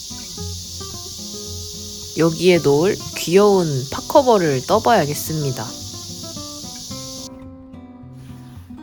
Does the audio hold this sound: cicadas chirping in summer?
yes